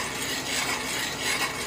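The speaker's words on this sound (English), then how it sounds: "See how they're just boiling right through the stir?" Wild grape jelly at a full rolling boil in a pot, stirred steadily, giving a continuous dense bubbling and scraping wash with no pauses, close and fairly loud.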